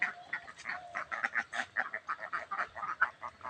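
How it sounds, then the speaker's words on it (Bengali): Egg-laying ducks on a duck farm quack in a dense, rapid chorus of overlapping nasal calls, fairly close and continuous, with no talking. "এই যে আমার এই হাঁসগুলো ডিম দেয়,"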